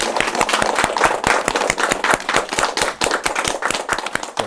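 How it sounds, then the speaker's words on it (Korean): A church congregation claps at the close of a Sunday worship service, sharp, loud, irregular handclaps sounding throughout in a steady burst, with no voices over them. "하나님께 영광의 박수 돌려드리겠습니다."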